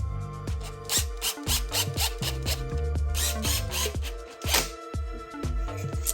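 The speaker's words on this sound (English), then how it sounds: "I'm using a self-centering bit to go in on these holes." A self-centering bit drills screw holes in oak, making rhythmic rubbing and grinding bursts with a tonal squeal running underneath. The sound is close and repeated steadily, with no speech.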